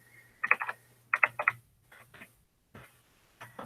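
Bursts of quick key clicks on a computer keyboard, typed in short clustered runs with pauses between, close and fairly quiet over a low steady hum.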